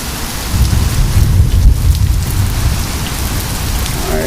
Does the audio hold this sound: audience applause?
no